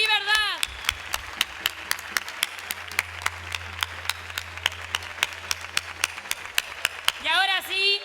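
Audience at an awards ceremony claps in a steady pattern of sharp, separate claps for several seconds, with voices briefly heard at the start and end.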